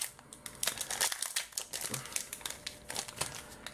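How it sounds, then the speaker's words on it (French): A Pokémon card booster pack wrapper is torn and crinkled open up close, a rapid series of sharp plastic crackles and rustles with no talk. "Ils sont vraiment galères à ouvrir."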